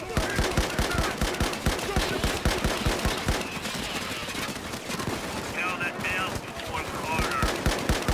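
Rapid bursts of AK rifle fire in the shooter game Payday 2, with quick sharp repeated shots in fast rhythm, loud and close, easing off midway before more firing, with players talking over the action.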